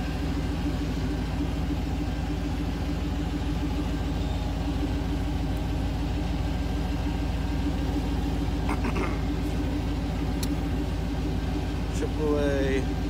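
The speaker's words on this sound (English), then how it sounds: "air compressor, 12 volt" A 12-volt air compressor inflating a truck tire drones steadily and loudly throughout with a constant motor hum, with a few faint higher chirps near the end.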